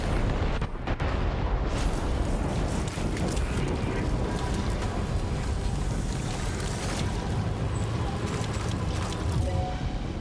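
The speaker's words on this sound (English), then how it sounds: "Weapons primed. Fire!" Weapons fire and explosions rumble in a Death Stranding 2 battle, a dense continuous roar of blasts and bursts at moderate distance, with no clear talk.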